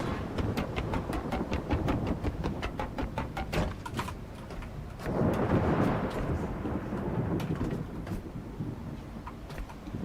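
A thunderstorm in the video game The Last Caretaker: a constant heavy rumble with rain-like crackle, swelling into a louder roll midway and then easing back, with no voices over it.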